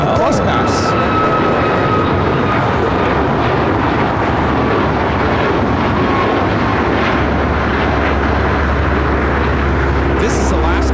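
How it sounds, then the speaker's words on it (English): An Alaska Airlines Boeing 737 MAX 9, flight 578 bound for Portland, takes off at LAX with a loud, continuous jet roar and a deep low rumble that thickens in the final seconds. "This is Alaska Airlines 578 taking off to Portland on the MAX 9."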